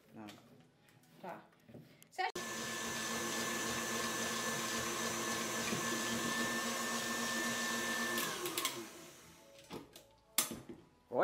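An electric mixer beating a water-based chocolate ganache, a steady loud whirring drone running for several seconds before cutting off, with people talking before and after.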